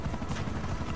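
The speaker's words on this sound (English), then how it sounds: "I just want to shoot a helicopter down, that's all I want." A helicopter in Grand Theft Auto 5 gives a steady, dense rotor thrum with a fast chopping pulse, heard alone for a moment.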